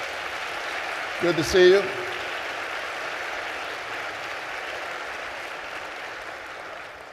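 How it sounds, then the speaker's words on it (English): Steady audience applause at a town hall in Atlanta, a broad continuous wash of clapping in a large room, with a brief spoken greeting near the start. "give them a great big round of applause"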